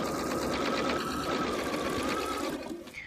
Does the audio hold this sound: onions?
no